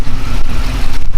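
A Ford Raptor pickup truck engine rumbles loudly and close, a heavy, steady low drone that barely changes for about a second.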